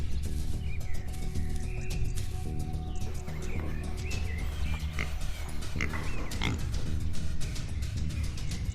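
A herd of pigs grunts and squeals continuously in a dense, overlapping chorus, moderately quiet, with many animals calling at once.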